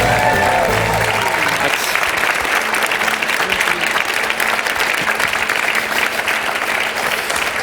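Studio audience applauses loudly and steadily on a quiz game show, a dense wash of clapping that runs the full length at constant level, with a low voice murmuring faintly underneath near the start.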